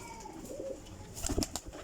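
A female Kasuri pigeon gives soft, faint cooing with a few low murmurs and brief rustles, heard close and alone.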